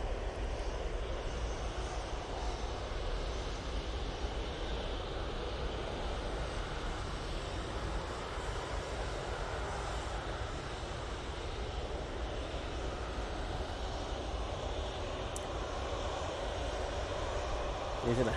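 An Embraer ERJ 145 jet roars steadily down the runway on takeoff at Manchester Airport, a continuous broad rumble heard from a distance, with faint voices in the background.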